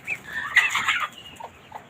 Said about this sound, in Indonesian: Ternaknya ini ada angsa, ada mentok.